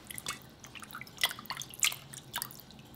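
Boiled eggs are peeled under water, producing soft, scattered wet clicks, drips and squishy splashes at irregular intervals, close by and faint.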